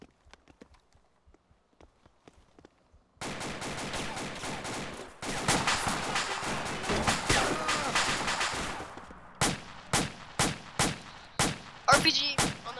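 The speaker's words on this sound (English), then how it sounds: "it's an insurgent. Fires at me, I'm gonna shoot him." Gunfire in the Arma 2 military shooter during a Marine patrol in Takistan: a few faint distant shots at first, then loud sustained bursts of automatic fire, followed by several sharp separate rifle shots near the end.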